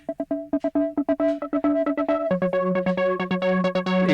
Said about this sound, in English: You hear it slowly opening and closing.